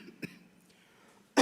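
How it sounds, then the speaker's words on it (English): A single cough sounds fairly close in a quiet school district board meeting room, followed about a second later by a second, louder cough or throat clear. "I apologize for the cough."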